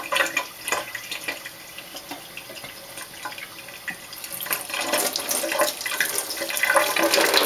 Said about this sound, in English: Get some warm water going.